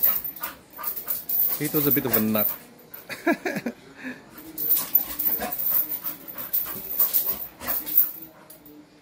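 Mini bull terrier about a year old panting and letting out short whimpers close to the microphone, in irregular bursts between a man's speech.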